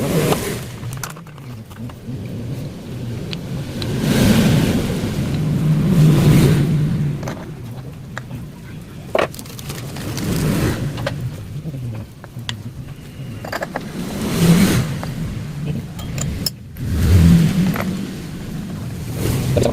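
Honda Beat scooter engine fitted with custom CVT pulleys, revved in several swelling bursts separated by idle lulls, fairly close and uneven in loudness.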